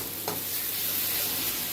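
Spice paste for chicken kosha sautéing in oil, a continuous soft sizzle and hiss with one brief scrape of a stirring spoon near the start, no talking.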